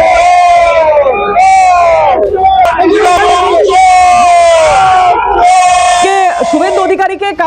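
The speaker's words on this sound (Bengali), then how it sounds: "শুভেন্দু অধিকারী চোর চোর স্লোগান দিচ্ছেন" A loud crowd chants and yells slogans of "thief, thief" at a political confrontation, with repeated rhythmic shouted phrases from many voices filling the scene continuously at close range.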